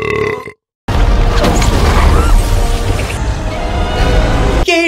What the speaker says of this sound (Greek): Αυτό θα πει ρέψιμο.